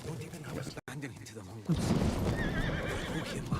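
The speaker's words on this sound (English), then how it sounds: "The horse made a neigh sound in game." A horse in the video game Ghost of Tsushima whinnies loudly in a long neigh, after a brief pause and under some background voice and rumble.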